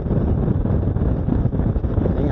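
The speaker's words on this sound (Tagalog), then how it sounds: "Sug lang kay hangin no." Steady wind roars against an outdoor microphone during a drone shot over the Mahayag segment of the Davao Bypass Road in Bunawan District, Davao, a dense low rumble that persists throughout with no talk.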